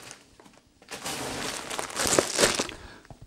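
Plastic shopping bags crinkle and rustle as groceries are unpacked, an irregular close-up crackling that swells and peaks in several sharp crunchy bursts before easing off.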